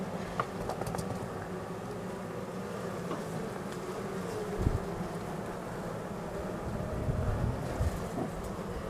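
Honey bees buzz around a beehive in a steady, soft outdoor drone, with wind noise and faint occasional knocks underneath.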